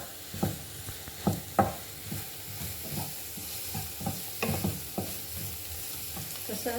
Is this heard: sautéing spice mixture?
yes